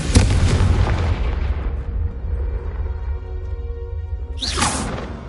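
Confringo fire blast spell in Hogwarts Legacy, a heavy booming explosion that decays into a low rumbling tail, followed near the end by a sharp rising whoosh, loud and close with no speech.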